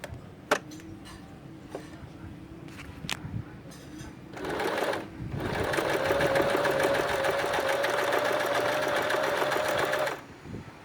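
An Elna 2006 sewing machine sews a net-pattern stitch. A few scattered clicks and ticks come first, then a brief whir and a long steady mechanical run that stops abruptly near the end.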